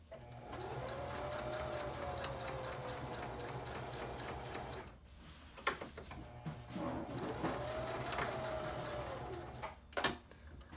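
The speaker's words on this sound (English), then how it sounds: "Now you use the 1/4 inch stitch to sew the following 1/3 of the mask." A sewing machine stitches a fabric face mask in two long whirring runs with a steady mechanical hum, separated by a brief pause with clicks and handling knocks.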